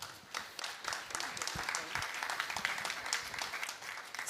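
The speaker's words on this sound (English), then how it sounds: "Round of applause for them all, please." Applause from a conference audience at a panel on sustainable food and value chains, a fairly quiet, steady patter of clapping lasting a few seconds with faint voices mixed in.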